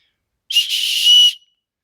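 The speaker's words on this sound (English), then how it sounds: "Yeah, another whistle right here." A survival whistle from an IFAK kit gives one sustained, loud, shrill blast of a little under a second, with a slight dip near its start, then stops cleanly into silence.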